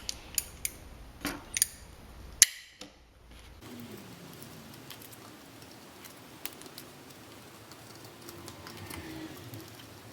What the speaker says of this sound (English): I would rather use a wire cutter